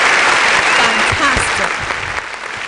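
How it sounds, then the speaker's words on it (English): An audience at a youth leadership debate final applauds a judge as he comes forward, a loud, dense round of clapping that holds steady and then begins to taper off near the end. "Please, a round of applause for him as he comes forward"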